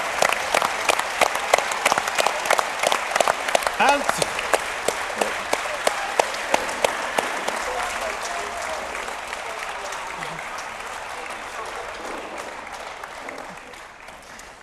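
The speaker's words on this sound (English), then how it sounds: "The applause, fantastic." Loud audience applause at a gaming tournament event, crisp, dense clapping filling the room, gradually thinning out, with a few voices and cheers mixed in.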